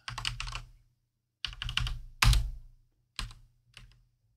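Typing on a computer keyboard while entering category names into an Excel spreadsheet, with close, crisp bursts of rapid key clicks separated by short pauses, including one heavier clack.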